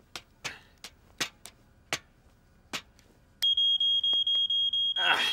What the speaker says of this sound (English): Now we can see to test the smoke alarm.